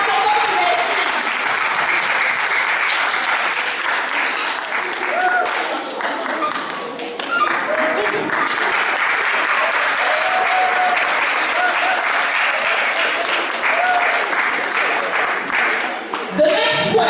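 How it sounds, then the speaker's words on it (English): Applause from a school audience rings out for a year 1 contestant at a declamation contest: sustained, dense clapping that runs steadily for the whole stretch, with a brief dip midway, and no talk over it. "let's give our year 1 contestant a big round of applause"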